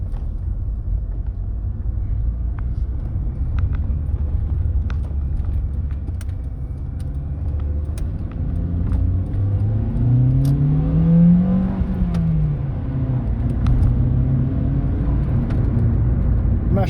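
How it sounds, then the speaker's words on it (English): An Acura RSX being driven and accelerating, with a steady low engine and road rumble inside the cabin that swells as the revs climb and then fall away, continuous and fairly close, without talk. "now I guess I'm gonna drive it around a bit, kind of tell you how it feels"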